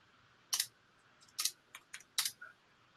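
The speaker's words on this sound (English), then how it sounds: "Just typing." Computer keyboard typing in short bursts, several sharp clusters of close key clicks with brief pauses between, alone in a quiet room.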